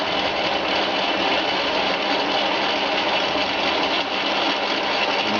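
A Chinese bench lathe converted to a treadmill motor turns a 20 mm steel shaft, with a loud, steady motor whine and broadband cutting noise that holds constant throughout, no voices.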